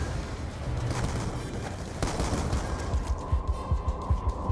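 Shotgun firing in the Black Ops 2 campaign on Veteran difficulty: a run of heavy blasts amid dense gunfire and battle noise, with booming shots repeating steadily toward the end, mid-level and without talk.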